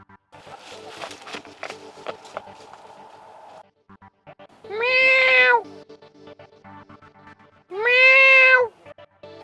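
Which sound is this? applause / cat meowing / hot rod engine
cat meowing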